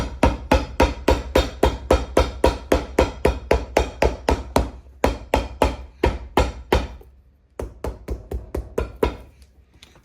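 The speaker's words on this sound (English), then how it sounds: "when I hammer it in, it'll sit more flush into the cavity." Steady, rapid hammer blows drive a leather piece into a boot, striking again and again in a regular rhythm, close and loud, with a short pause before a softer run of taps.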